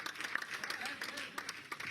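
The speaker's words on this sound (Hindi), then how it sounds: "हम सब उनका स्वागत अभिनंदन तालियों के माध्यम से करते हैं।" A short burst of audience applause, a dense patter of many hands clapping at once, heard faintly from a distance.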